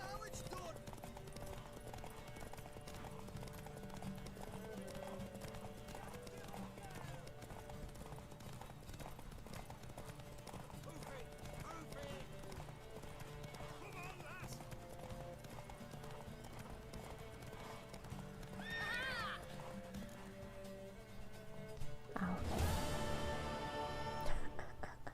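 A horse's hooves clip-clop in The Witcher 3, a steady stream of footfalls running through a long stretch of game sound. Music and talking play throughout, with a louder burst near the end.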